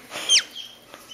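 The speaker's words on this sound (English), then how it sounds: "That's a cute little chirpy chirp you make, Marlene." A black-headed caique chick gives a couple of short, high chirps close by, one brighter sweeping call standing out, with a faint softer peep after.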